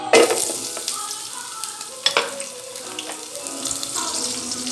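Onion and garlic sautéing in a pan for spaghetti, a close crackling sizzle with clattering stirs and scrapes throughout, no talking.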